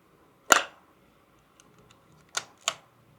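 A Leica M2 film camera shutter fires with a sharp mechanical click, then after a pause two more quick clicks in succession, close and crisp in a quiet room.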